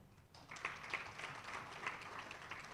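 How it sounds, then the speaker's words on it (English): Audience applause at a media convergence conference in Ghana, a steady wash of many hands clapping at moderate distance, lasting throughout with no speech. "Please, a round of applause for the Margins Group"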